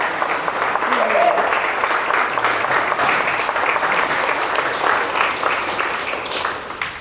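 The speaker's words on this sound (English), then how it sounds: "another round of applause" Sustained applause from a crowd at a political fundraiser, a dense wash of clapping that holds steady and then begins to taper off at the end.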